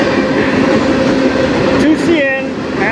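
A CN freight train rolls past at night on the Strathroy Subdivision, its steady loud rumble and clatter filling the air, with brief squeals of wheels against rail near the end.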